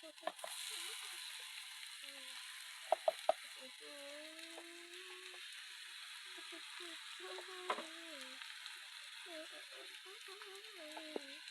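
Green papaya pieces sizzle steadily in a hot pan while being stirred, with occasional light spoon clinks and soft voices in the background.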